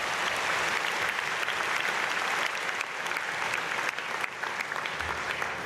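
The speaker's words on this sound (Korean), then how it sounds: "박수해 주시기 바랍니다" Sustained applause from an audience in a church gathering, a dense steady clatter of many hands clapping at fairly even loudness from start to finish with no talk.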